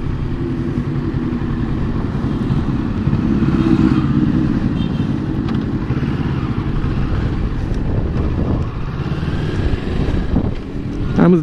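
A 2021 Kawasaki Z650 motorcycle out on a ride, its engine droning steadily and fairly loud under constant wind buffeting across the mic, with a slight surge in the middle.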